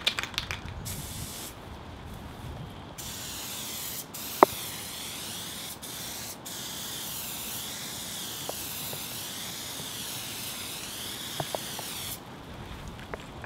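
White spray paint hisses from an aerosol can in a steady, continuous spray lasting several seconds, with brief pauses and faint rattles, close and fairly quiet, painted over blue, black and purple ink.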